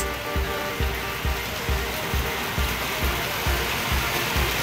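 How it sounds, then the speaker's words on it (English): A tiny waterfall along the hiking trail to the Mount Pinatubo crater in Botolan, Zambales, gives a steady, close hissing rush of falling water, with regular low thumps beneath it like footsteps. "We have a tiny waterfalls."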